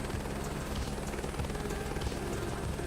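A Chinook twin-rotor helicopter in Microsoft Flight Simulator 2024 flies over a huge forest with a continuous even droning whir, steady and fairly quiet throughout.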